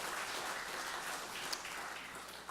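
Applause from a church congregation during a Sunday worship service, a soft, steady wash of many hands clapping heard at some distance throughout.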